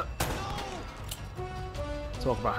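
Hand cannon gunfire in Uncharted: Drake's Fortune, a handful of sharp shots cracking over busy combat noise with speech-like game sounds mixed in.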